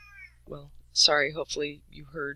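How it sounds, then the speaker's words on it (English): Pet cat meowing close by indoors, a few short mewing calls in a row while a person speaks quietly over them. "that's my cat"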